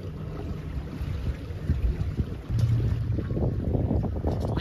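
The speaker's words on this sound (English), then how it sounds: "We're making our way, going like about 2 knots maybe. Just coasting along through the harbor." A small boat coasts slowly through a harbor at about two knots, with soft water sloshing and wind noise close by and a brief bump partway through, no voices.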